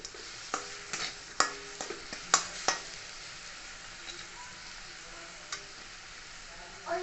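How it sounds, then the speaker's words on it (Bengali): Coconut and sugar syrup are stirred in a pan over heat, sizzling softly, with sharp scraping clicks from a spoon against the pan coming in irregular bursts, loudest early and then thinning out. "এরপর আবার এটা অনবরত নাড়বো।"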